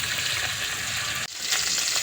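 Fresh fish frying in a pan for a tomato curry, a steady close hiss of oil that breaks off for a moment as the fish is turned, then returns just as loud.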